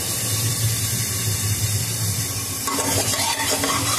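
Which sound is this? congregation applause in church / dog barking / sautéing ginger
sautéing ginger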